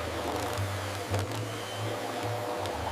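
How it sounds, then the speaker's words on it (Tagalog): A household vacuum cleaner runs with a continuous, steady motor drone and airy hiss throughout, close and even in level. "This is a vacuum cleaner."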